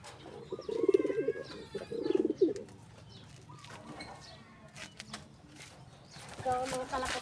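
Pet pigeons coo in low, throaty bursts close by, a couple of clear rolling coos followed by softer calls, with someone talking intermittently over them.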